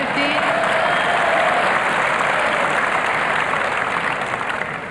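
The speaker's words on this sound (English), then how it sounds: "Slightly ironical applause from the crowd as the linesman called out" Ironical applause rolls through the Wimbledon crowd during a 1982 ladies' singles semi-final after a linesman's call, a thick, steady roar of clapping that tapers off slightly at the end.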